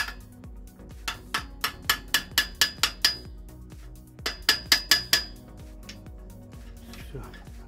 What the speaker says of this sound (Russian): Молоточком немного подобью